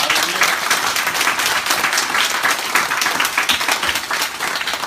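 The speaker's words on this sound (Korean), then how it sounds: "여기 다시 한번 하나님께 영광의 박수를 돌리겠습니다" A church congregation at a Christmas thanksgiving service after a cantata claps vigorously, dense and steady rhythmic applause filling the sanctuary for several seconds.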